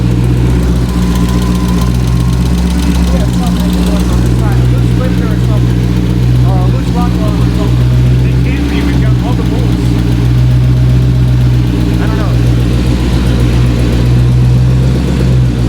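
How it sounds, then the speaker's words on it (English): A Hellcat-engined Dodge Magnum idles loudly and steadily up close, with a rough ticking, puffing rasp from an exhaust leak near the injectors pulsing through it and brief voices underneath. "It's the exhaust leak."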